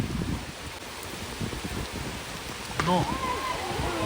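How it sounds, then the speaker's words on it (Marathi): Steady rain and gusting wind hiss throughout at an outdoor rubber-ball cricket tournament match, with a short burst of voice near the end. "लय जोरात वारा आला रे."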